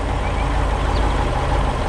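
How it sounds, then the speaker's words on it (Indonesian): A cheerful yellow bus drives around a colourful farm in an animation, giving a loud, steady engine rumble with road noise and no break. "Bus berwarna kuning ceria melaju dengan berani, berkeliling kebun yang penuh warna."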